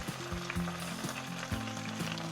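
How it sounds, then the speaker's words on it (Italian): Fresh spinach wilts in a pan with a garlic clove and a drizzle of oil, giving a steady, close sizzle and frying crackle with low hissing pulses throughout, no voices. "li metto direttamente in padella con uno spicchio d'aglio, un filo d'olio e li lascio appassire"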